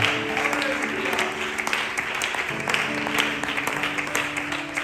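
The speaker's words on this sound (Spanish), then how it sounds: "Fuertes aplausos para el Señor, para su palabra." Applause from a church congregation during a service: broad, steady clapping from many people filling the room, with some louder individual claps standing out and a faint tonal hum underneath.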